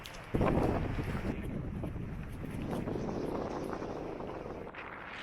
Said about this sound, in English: It is a tad windy around this corner